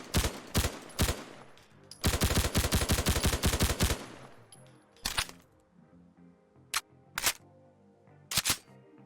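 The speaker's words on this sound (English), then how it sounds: "Let's go ahead and fire it for a little bit." A semi-automatic PPS-43 submachine gun in a Fallout 4 mod fires in loud, close bursts: a few spaced shots, then a rapid string of about a dozen cracks, followed by scattered single shots with mechanical clicks between.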